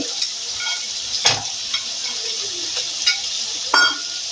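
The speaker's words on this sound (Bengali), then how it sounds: "ভালো করে কষছি। এর মধ্যে আমি টুকরো করে কাটা আলুগুলো দিয়ে দিলাম" Mutton keema with cut potato pieces being sautéed in a pan: a steady soft sizzle runs under a few louder scraping stirs of a spatula, close and unaccompanied by talk.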